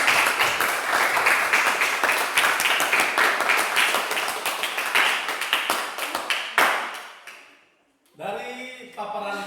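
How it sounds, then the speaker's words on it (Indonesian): A classroom of students applauds a presenting student group with steady, lively clapping that fades out, followed by a voice speaking near the end. "beri tepuk tangan untuk kelompok 3."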